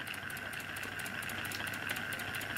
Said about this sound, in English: we've got this tiny little steam engine, a meths burner, a little boiler full of water